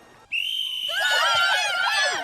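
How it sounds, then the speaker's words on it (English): A shrill whistle blown on a film set for the World War I drama War Horse, one steady piercing blast that swells into a wavering, warbling shriek with a faint tone underneath, loud and close throughout. "Here he is in 2011, blowing the whistle in Warhorse"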